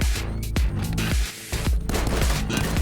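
Rapid gunfire from armed people storming a party in the video game GTA 6, a dense volley of loud, sharp shots and bursts over a busy music-and-crowd background.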